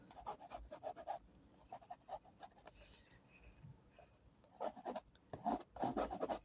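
A palette knife rubbing and scraping acrylic paint onto a canvas background, close, dry rasping strokes in short repeated bursts with quiet gaps between them.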